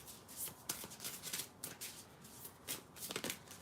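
Oracle cards are shuffled by hand in a quiet room, a soft, steady run of papery riffles and flutters that repeats throughout at low volume, close to the microphone.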